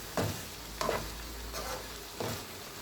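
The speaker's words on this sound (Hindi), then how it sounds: "मिक्स करेंगे एक बार।" Spiced karela keema stirred in a pan with crushed red chilli, cumin powder and crushed coriander, giving a steady low sizzle broken by three or four distinct scraping strokes of a spoon, close and moderately loud, with no talking.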